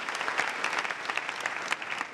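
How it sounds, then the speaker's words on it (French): An audience at a live comedy show claps in a dense, steady burst of applause that fills the room, loud and close throughout with no pause. "Applaudissez encore pour vous"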